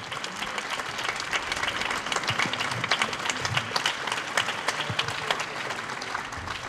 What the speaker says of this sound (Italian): Quindi un grande applauso a tutti perché lo meritano.